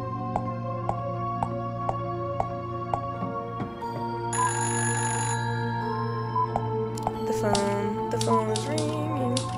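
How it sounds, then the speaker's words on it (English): A telephone rings in the Fran Bow video game, a repeating electronic ringtone pulsing at a steady rhythm under game music and other effects. "The phone is ringing."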